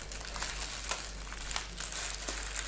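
Plastic bag being taped up for a Halloween pumpkin craft, giving steady close crinkling and rustling with a few sharper crackles throughout.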